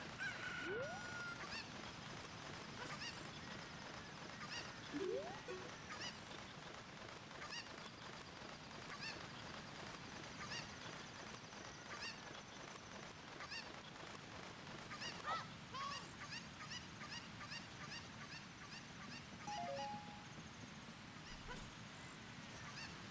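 Cucco chickens in Ocarina of Time cluck and squawk in scattered game effects, a few faint honking calls spread irregularly over a low, steady background, with no voices.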